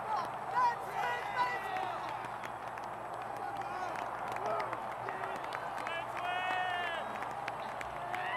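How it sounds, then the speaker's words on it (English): Baseball crowd at the Metrodome cheering and clapping after a Twins walk-off win, a steady dense roar of voices and applause with scattered whistles and shouts throughout. "The crowd went nuts"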